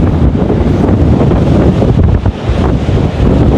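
Strong storm wind roars nonstop across the sea at Point Pedro, with crashing waves beneath it, a loud, dense rush of wind buffeting the microphone for the whole stretch.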